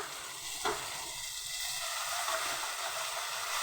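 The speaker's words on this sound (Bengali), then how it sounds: "রসুনটাকে ভালোভাবে আগে একটু কষিয়ে নেব" Garlic paste fries in a pan with softened, browned onion and tomato, giving a steady, close sizzle with a single soft knock early on and no voices.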